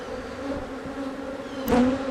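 Bees hum in a steady, close drone from an opened beehive, swelling a little louder near the end with a nearby buzzing pass.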